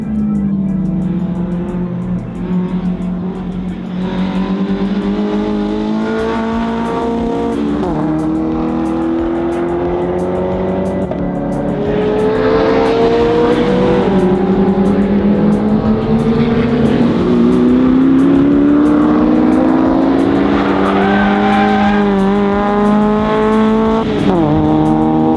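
A Toyota AE86 with roughly 100 horsepower revs and accelerates through the gears, its engine note climbing, dropping at shifts and climbing again, loud and close throughout with no talk.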